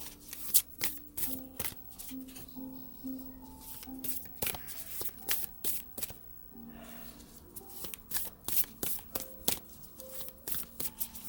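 Tarot cards are shuffled by hand in quick bursts of crisp riffling and flapping, broken by short pauses.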